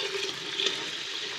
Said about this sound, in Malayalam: അതേ പാത്രത്തിന് 2 പാത്രം വെള്ളമാണ് കേട്ടോ ഒഴിക്കുന്നത്